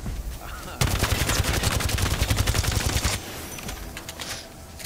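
Video game gunfire including a Kraber sniper rifle shot, a loud sustained burst of rapid automatic fire lasting about two seconds, followed by quieter shots and scattered background battle noise.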